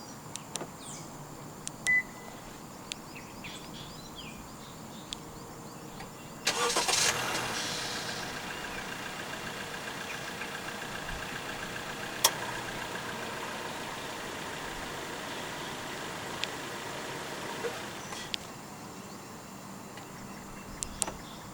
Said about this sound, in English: Standard for the 8th generation City range in Malaysia from the E trim and above is a remote engine start system.